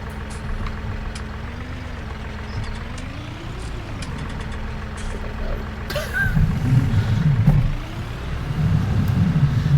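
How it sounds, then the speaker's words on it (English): A heavy video game tractor engine drones steadily with shifting pitch, swelling louder and rougher near the end, mechanical and close, with no talking. "So apparently this tractor should sound a bit better."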